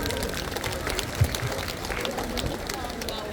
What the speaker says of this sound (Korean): 주민자치회장님께 다시 한번 큰 박수 부탁드립니다